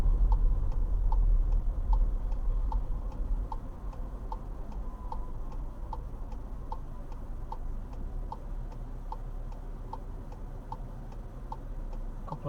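A car's turn indicator ticks at a road junction during driving practice, giving a steady, evenly spaced series of clicks over a low cabin engine rumble, with no talking.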